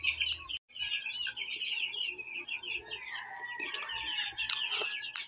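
Chickens and cockerels in a barn cluck and chirp continuously with busy overlapping calls, near and fairly loud, and a brief gap early on.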